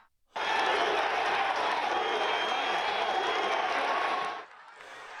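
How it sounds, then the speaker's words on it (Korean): A crowd at an outdoor Pennsylvania campaign rally for Trump erupts into loud, sustained cheering and applause as he raises his fist, a dense roar lasting about four seconds before dropping away. "트럼프가 경호원에 둘러싸인 채 주먹을 들어보이자 환호가 터져 나옵니다"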